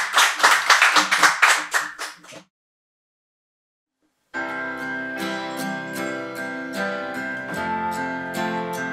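A studio audience on a talk show claps loudly in quick, dense applause for about two seconds. After a short silence, music begins.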